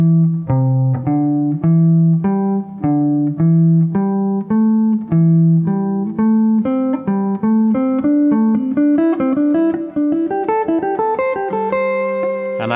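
A guitar plays a pentatonic scale in repeating groups of four notes. The notes are picked steadily, one after another, and the line gradually climbs higher.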